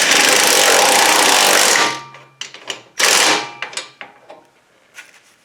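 Power tool running steadily for about two seconds while tightening grille guard bolts on a 2005 Chevy Colorado, followed by several shorter bursts and whirring pulses, loud and close.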